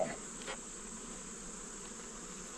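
Close, continuous hum of honeybees, a mix of yellow and darker Caucasian bees, during a hive inspection, with a faint knock near the start and no voices.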